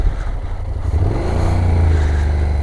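A motorcycle engine revs hard while the clutch is held almost fully in and slipping, as a rider practises before a Swiss riding test. The engine holds a steady, loud drone whose pitch climbs, with no talk.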